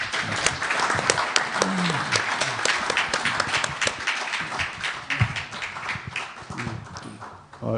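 Sustained audience applause follows a guest speech at a Kwanhoon Club forum with Korea's 18th National Assembly speaker, dense and steady throughout with a brief voice showing through near the start.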